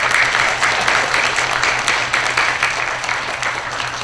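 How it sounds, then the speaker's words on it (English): A school audience at a student-of-the-month ceremony claps for a student, a dense, steady wash of applause that holds loud and even throughout with no talking over it. "So let's give Grace a big round of applause."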